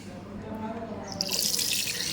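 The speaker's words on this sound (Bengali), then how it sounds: "এবার এটা জল দিয়ে ধুয়ে নিচ্ছি" Water runs into a bathroom washbasin as it is rinsed clean, a low gurgling flow that brightens into a louder, splashy tap stream partway through.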